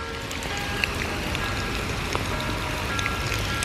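Steady, dense rainfall hisses continuously, with occasional louder drops and taps standing out against the wash of noise.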